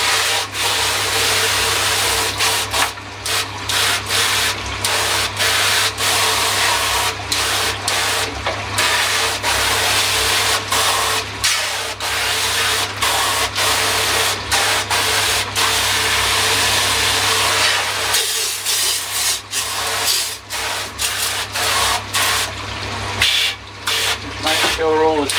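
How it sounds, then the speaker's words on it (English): A garden hose set to fan spray washes out a pond filter tub, a continuous broadband hiss of water with scraping and rubbing noises on top, loud and close throughout. "I can now get the hose, put it in fan mode so it chucks out a fan and give it a clean"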